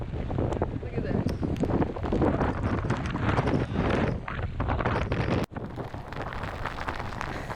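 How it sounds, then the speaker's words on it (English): Strong hurricane wind from Hurricane Dorian roars at Virginia Beach, a loud, continuous buffeting rush battering the microphone throughout, with gusty surges and no clear talk. "this is probably the strongest wind I've seen since Hurricane or Tropical Storm Hermine"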